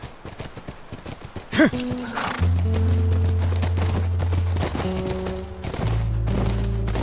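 Clopping hooves and a short horse whinny in The Last of Us Remastered, then a steady low droning hum that continues under the hoofbeats to the end.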